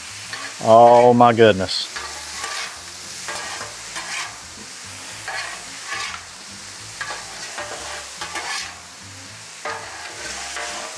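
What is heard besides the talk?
butter tossed with steak and potatoes frying on a Blackstone griddle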